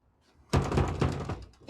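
Police pounding hard on a door in a raid, a burst of loud, close thuds and knocks following a brief quiet moment.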